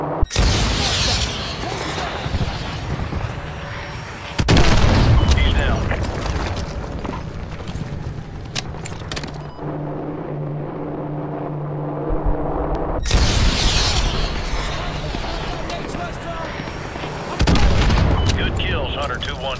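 Heavy gunfire and booming blasts in Call of Duty: Modern Warfare 2 Remastered, with loud bursts of shooting around a quieter stretch of mechanical rumble and distant rattles in the middle.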